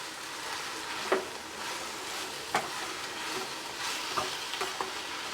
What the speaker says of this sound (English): Now mix all these well and again let them fry for 5 more minutes.